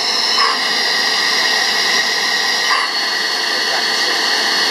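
A Haas VF3 CNC mill's spindle runs at 10,000 RPM, a loud, steady high-pitched machine whine with a constant hum underneath and faint shifts in tone, heard close up with no talking.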